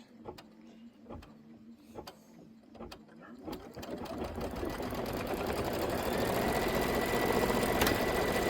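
An embroidery machine stitching a pillow block. It starts with a steady series of clicking needle strikes over a low hum, then settles into a loud, continuous whirring drone that fills the rest of the stretch.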